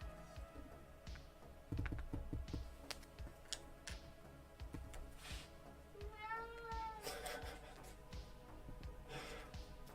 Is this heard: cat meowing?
yes